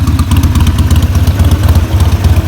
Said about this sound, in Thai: ติดแล้วเว้ย ไปตอนนี้ก็ วอร์มให้เครื่องมันรอบได้แล้วนะ